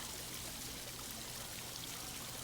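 Pond water and a waterfall flowing in a continuous soft hiss and trickle, steady and fairly faint throughout, with no voices.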